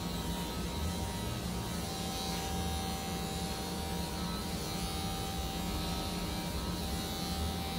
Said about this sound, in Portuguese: Observa que eu passo a máquina só na parte superior, meio que flutuando a máquina